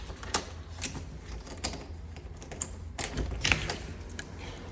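A key being tried in a garage door lock, producing a series of light metallic clicks, jingles and scrapes at irregular intervals, fairly close and moderately quiet.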